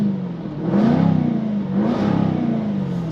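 A Jaguar F-Type P450 V8 is revved while stationary, two rising surges of deep engine roar that swell and settle back to a loud idle, heard close up.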